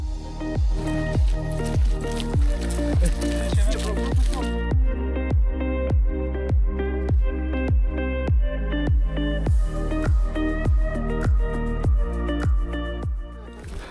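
Boots squelch through deep mud on a washed-out dirt road leading to a pond in spring, with steady, evenly spaced wet steps close by that continue the whole time.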